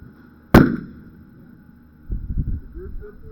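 A single sharp gunshot fired at a target on a shooting day rings out loud and close, its crack decaying over a moment, followed by brief low speech.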